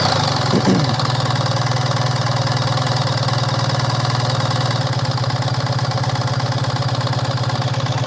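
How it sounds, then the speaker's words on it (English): A 2025 BMW R 1300 GS motorcycle engine idles close and loud with a steady, even rumble, after a brief catch near the start, running without pause to the end. "Let's start the bike first."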